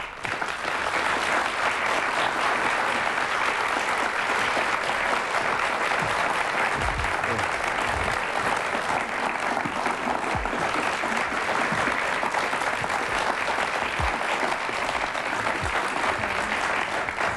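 Studio audience at a 1974 German evening talk show applauding steadily to welcome Romy Schneider, a dense, even wash of clapping that holds at full strength for the whole stretch with no voices over it.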